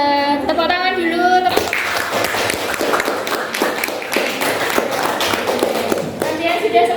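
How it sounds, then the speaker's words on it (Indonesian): Classroom applause breaks out right after a teacher's voice, a dense crowd of clapping hands rattling steadily for several seconds before talk resumes. "Tepuk tangan dulu."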